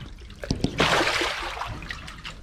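Water is swished and sloshed inside a crocodile tank, a few splashy knocks followed by a longer surging wash of water, close and moderately loud, then settling into quieter trickling.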